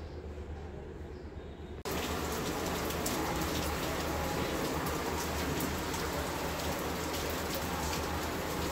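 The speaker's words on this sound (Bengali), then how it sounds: "বৃষ্টি হচ্ছে" Rain falling steadily, a dense close hiss of drops on surfaces that starts abruptly and then continues evenly and loudly without pause.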